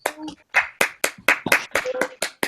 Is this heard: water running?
no